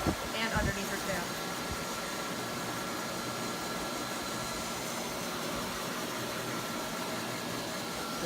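Pet dryer blowing air on a Samoyed dog, a loud steady roaring whoosh of air close by throughout, with a voice speaking briefly at the start.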